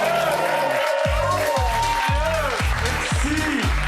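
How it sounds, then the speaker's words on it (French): An audience at the Humour sur mesure stand-up comedy show applauds and cheers for comedian Mathieu Bouillard, a dense, loud wash of clapping over a pounding rhythmic beat. "Je demande de faire un tonnerre d'applaudissements, s'il vous plaît, pour Mathieu Bouillard!"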